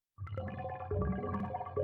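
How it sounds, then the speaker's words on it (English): A synth run through a stereo delay gives a bubbly, harmonic-ish texture that is mostly uniform with slight randomness. It enters abruptly, holds steady and swells louder twice, with no voice. "you get a funny like harmonic-ish bubble sound that also has a tiny bit of randomness, but mostly uniform"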